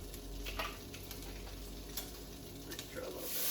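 Asparagus spears sizzling on a hot grill, a steady soft frying hiss with faint crackles and a few light clinks of a utensil, fairly quiet throughout.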